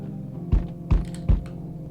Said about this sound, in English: Somebody banging again.